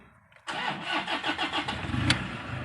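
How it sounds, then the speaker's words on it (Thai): A car engine, one whose timing-belt warning light had been blinking, cranks briefly and catches, then settles into a steady, close idle with slight fluctuations. "เดี๋ยวเราจะมาทดลองสตาร์ทเครื่องดู"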